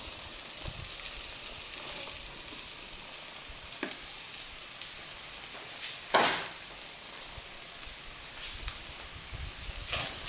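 Soy meat fries in a pan with onion and garlic, giving a steady, bright sizzle with occasional louder pops and stirring scrapes, close and continuous throughout.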